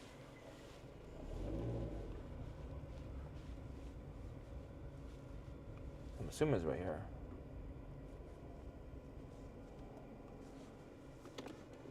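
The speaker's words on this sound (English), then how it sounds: "Oh, that was a car behind me." A car passes behind someone on a street in Harrisburg, Pennsylvania: a brief swelling whoosh rises and fades at middle distance, mostly under a man's speech.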